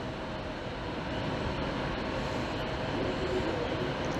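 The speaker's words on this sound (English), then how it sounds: "Oh, here's our train." An EMR Class 156 diesel train arriving at a Merseyside platform rumbles steadily with a broad, low roar, coming in without any talk over it.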